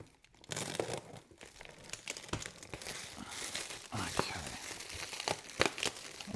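Plastic wrap crinkles and rustles close by as it is pulled and handled during an R31 Skyline fuel system job, a continuous irregular crackle with sharp crunchy bursts.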